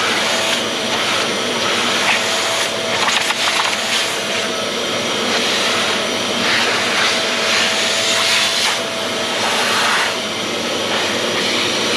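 A vacuum cleaner runs steadily inside a car body that has just been coated with epoxy, giving a continuous loud, broadband whooshing roar with no talk over it.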